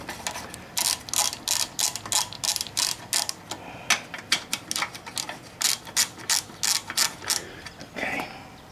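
A ratchet on a long extension working a bolt on a lawnmower, giving rapid bursts of close, loud clicking in a steady back-and-forth rhythm with short pauses between strokes.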